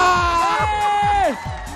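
A TV studio audience whoops, cheers and applauds loudly in sustained, rising shouts, with excited voices blending together.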